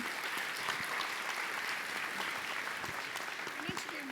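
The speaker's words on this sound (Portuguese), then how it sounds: "Salva de palmas para o Mariela." An audience at a Brazilian food conference gives a sustained round of applause, dense even clapping throughout, with a faint voice briefly audible near the end.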